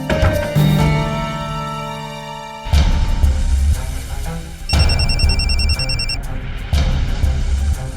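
A telephone rings loudly and close in repeated electronic bursts, a long tonal ring giving way to shorter pulsing rings with brief gaps, with no voices over it.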